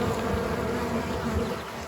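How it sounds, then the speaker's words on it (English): A steady, dense buzzing of many honeybees fanning at a hive entrance hums continuously and close, with no pauses or voices. "When you get a swarm of bees and you put them in a box, a lot of them will sit outside and fan"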